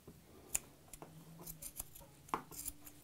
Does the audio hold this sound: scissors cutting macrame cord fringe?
yes